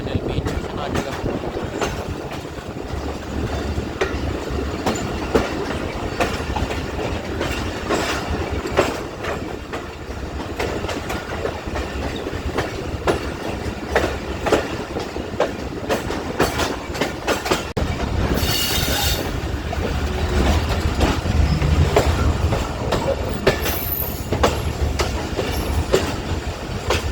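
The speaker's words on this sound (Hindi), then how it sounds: "गाड़ी अब लाहौर कैंट रेलवे स्टेशन पहुंच गई है।" An Awam Express passenger train hauled by a ZCU-30 locomotive rolls into Lahore Cantt station, with loud continuous rumbling, rhythmic wheel clatter over rail joints and brief squeals from the wheels.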